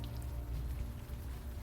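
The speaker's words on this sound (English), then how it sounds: "Still raining." Steady rain falls in a night-time Manhattan street scene at Astor Place in the game Unavowed, a constant soft wash of droplets with faint patter that holds at an even level throughout, with no voices.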